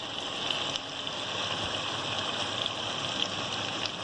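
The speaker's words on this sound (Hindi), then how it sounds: "देखिए मैं इसमें पानी डाल दूँगी, ये पकता रहेगा।" Water poured into a pot of meat for shab daig, a continuous gushing splash that runs close and steady throughout with no pauses and no talk.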